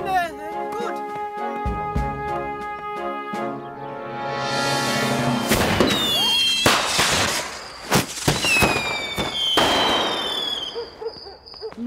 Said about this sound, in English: She's very close to that firework display, you know.